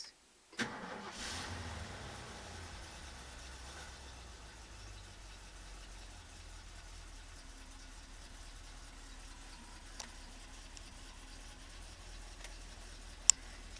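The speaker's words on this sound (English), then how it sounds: "Try number 2. Cold start." A 1972 Ford Torino station wagon, idle for two weeks, cranks and catches on a cold start, then settles into a low, quiet, steady idle with faint ticking.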